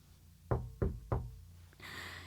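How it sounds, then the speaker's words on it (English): Three loud, evenly spaced knocks on a wooden door ring out close by, followed by a brief pause and then a noisy rustle. "he thought that he would knock very loudly just to make quite sure"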